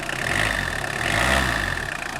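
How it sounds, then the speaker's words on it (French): The cold 1.9 turbodiesel engine of a 1993 Citroën ZX Volcane running close up, a rough steady drone that swells slightly as the revs rise gently, then settles. "je vais mettre un petit peu d'accélérateur quand même"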